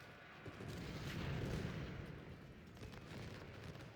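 Cannon fire in a Civil War battle from Ultimate General: Civil War, a rolling low boom of artillery with a crackling volley swelling and fading under distant battle noise, no talk.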